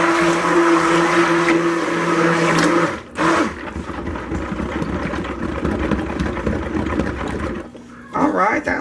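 Vanilla mocha coffee soap batter is whirred with a stick blender, a loud steady motor drone that cuts out briefly, then runs on and restarts, with talking mixed in.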